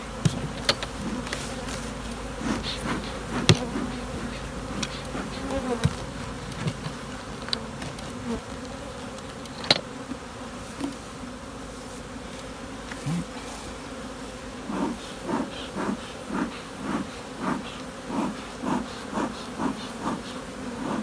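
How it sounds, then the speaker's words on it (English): Honey bees swarm around hives in a robbing frenzy during a dearth as honey is taken off, a dense, continuous buzz close by with individual bees whizzing past and faint clicks of hive work. "The joys of taking honey off the hives in a dearth. There's a robbing frenzy"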